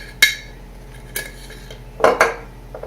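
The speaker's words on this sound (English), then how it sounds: "So I'm putting all the dry ingredients first and stirring that." A utensil clinks against a bowl while cornbread dry ingredients are stirred, four sharp metallic strikes spaced unevenly, two of them close together near the end, over a quiet background.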